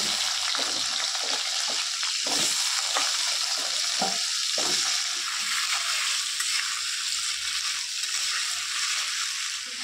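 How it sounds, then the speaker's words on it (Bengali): Cut potatoes fry in hot mustard oil in a kadai with a loud, steady sizzle, broken by stirring scrapes and clatter early on before settling into an even crackling hiss. "সেই আলুগুলো একটু ভেজে নেবো।"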